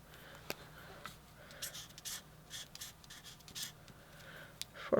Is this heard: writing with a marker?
yes